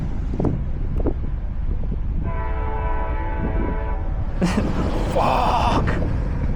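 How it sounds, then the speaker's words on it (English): A train horn blares for a couple of seconds over steady wind-like rumble, followed by a sharp burst of noise. "That was the most disgusting train noise I've ever heard in my life."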